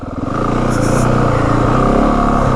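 A 2025 Yamaha WR450F dirt bike engine drones steadily while riding slow over rutted berms and hills, the throttle held with the clutch feathered, loud and close, its low throb building briefly at the start then holding even.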